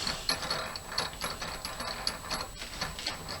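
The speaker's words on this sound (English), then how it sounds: "So then you screw this Phillips screw all the way down" A Phillips screw is driven down by a small screwdriver during a two-handle Moen kitchen faucet repair, with rapid close ratcheting clicks and metallic scraping throughout.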